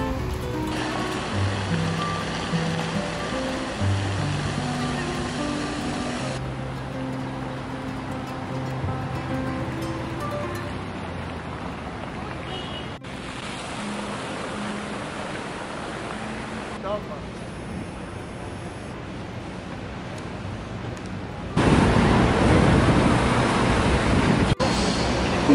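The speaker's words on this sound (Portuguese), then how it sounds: "Tempestade, mas tempestade em Nova York" Storm in New York with steady rushing wind and rain, a continuous broadband roar that swells louder near the end, with no voices.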